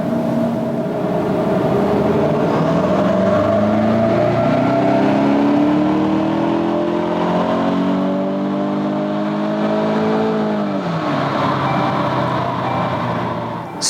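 A 2023 VW Mk8 GTI revs hard on a dyno, loud and close, its engine tone climbing steadily through a long pull, dipping briefly at a downshift, then rising again before cutting off.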